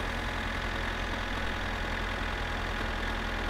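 A car engine idles in the video game My Summer Car, a loud, steady, continuous mechanical drone with no talking over it.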